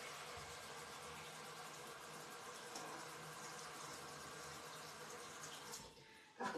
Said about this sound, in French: je vais remplir l'eau ici.